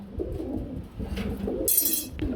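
Bombay pigeons for sale coo in low, soft, repeated throaty notes close by, with a brief rustle of wings or a light chirp near the end.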